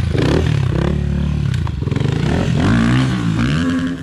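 A Honda CRF dirt bike engine revs hard and continuously during a wheelie stunt, loud and close, with rising and falling pitch and some clattering.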